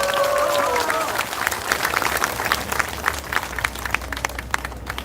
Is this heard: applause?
yes